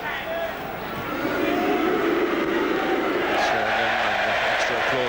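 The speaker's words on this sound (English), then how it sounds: "Extra applause for Nielsen from the Tottenham faithful for dispossessing their former favourite" A football crowd at a Tottenham match applauds and roars in a broad, loud swell of clapping and voices, with a commentator talking over it.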